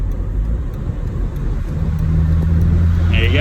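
A convertible car's engine pulls through second and third gears on the road, a loud, close drone that rises in pitch toward the end, with a voice talking over it.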